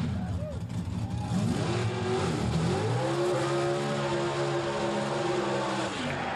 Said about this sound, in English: pulling into the water burnout area, it's the first pair in this round of Pro Stock Eliminator